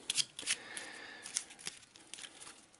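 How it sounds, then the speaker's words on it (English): A deck of Eldritch Horror madness condition cards is shuffled by hand in quick, crisp riffles and flicks, close and fairly quiet, with no talking. "give them a bit of a shuffle."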